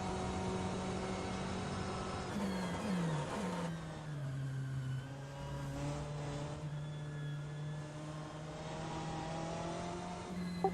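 A BMW M8 GTE race car engine in the rFactor 2 racing game at Spa, held at full throttle: a loud, continuous harmonic roar whose pitch climbs and shifts early on, then settles into a steady, sustained drone.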